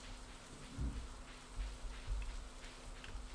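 Rain in the Stardew Valley farming game falls as a steady, soft hiss, quiet and unbroken, with a few low rumbling thumps beneath it.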